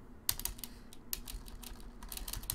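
Fast, uneven keystrokes on a computer keyboard clatter up close in short bursts, with louder isolated key hits scattered through the run and no voices.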